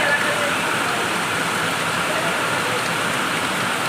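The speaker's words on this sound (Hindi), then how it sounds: "कितनी तेज बारिश हो रही है" Heavy rain pours in a steady, loud broadband wash that fills the whole clip, with faint voices of a family mixed in beneath the downpour.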